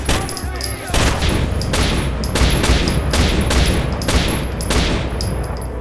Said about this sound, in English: assault rifles set to single shot did more damage, probably because the single shot firing has a louder sound effect